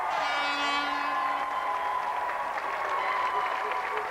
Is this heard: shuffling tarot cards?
no